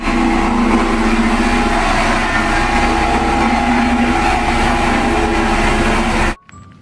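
A big toy cement mixer truck gives off a continuous, loud, droning engine rumble with a steady hum running through it for about six seconds, ending abruptly.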